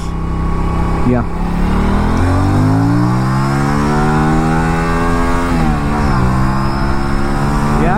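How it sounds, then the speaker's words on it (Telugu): An Aprilia RS 457 motorcycle on a test ride revs up loudly through the gears, engine pitch climbing repeatedly in rising sweeps with brief dips at shifts, close to the recorder. "ఒకసారి ఎక్కువలో పెట్టి ఒకసారి డ్రైవ్ చేసి చూద్దాం బైక్"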